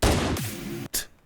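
Gunshot impact effects in a music remix: a heavy, loud blast that rings out, then a brief gap and a second sharper bang, with no talk.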